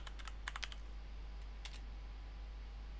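Typing on a computer keyboard at a Raspberry Pi command line: a quick burst of close key taps, then a short second burst, over a steady low hum.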